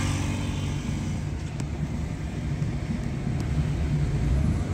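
A used car with a fault where the engine revs but the car does not pick up speed, heard as a steady loud engine drone from inside the vehicle that rises slightly toward the end.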